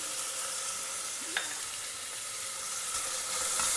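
Soft sizzling of a sambar rice mixture with spices, turmeric and sambar powder being stirred in a single pot, a steady quiet hiss with a brief scrape of the spoon partway through.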